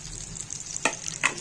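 Prawns fry in hot oil with a steady close sizzle, punctuated by two distinct scraping stirs of a spatula.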